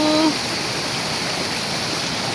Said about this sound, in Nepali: फेरि पानी पनि परिगयो, पानी पनि पर्यो